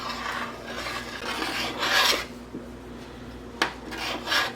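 Christmas jam is stirred in a pot, making a close, continuous rasping scrape as the utensil drags across the bottom. The scrape swells and fades with each stroke, and a couple of sharper knocks stand out.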